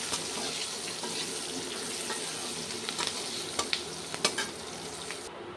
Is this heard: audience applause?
no